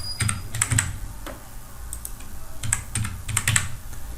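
Computer keyboard typing while entering small confirmation amounts during PayPal bank setup: irregular bursts of crisp keystrokes, close and fairly loud, with short pauses between clusters and no voices.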